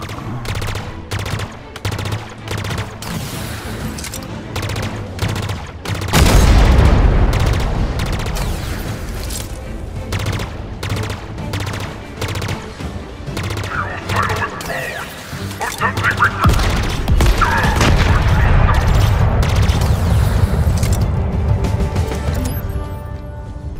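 Explosions and heavy gunfire erupt as silos are destroyed in the Halo Infinite video game. Deep booms and rattling bursts pound in waves for the whole stretch, with voices speaking over the din.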